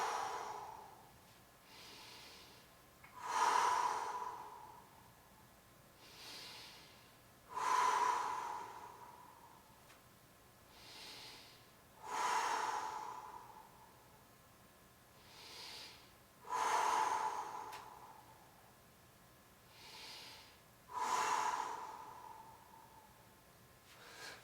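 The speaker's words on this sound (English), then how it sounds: "Nice, big inhales, big exhales." Heavy breathing during an exercise workout, with big deep inhales and forceful exhales repeating in a steady slow rhythm of about one breath every four to five seconds, close and alone without talk.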